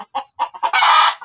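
A champion fighting cock named Kalbo, kept in a pen, gives a few quick clucks and then a loud, close crow lasting under half a second, followed by one more cluck.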